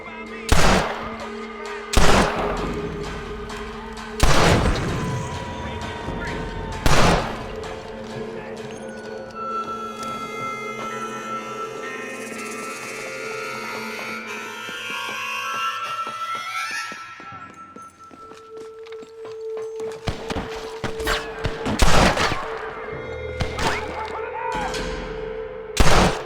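Gunshots ring out in Red Dead Redemption, several loud sharp cracks spaced a few seconds apart with a cluster near the end, over music and game ambience while a character shouts.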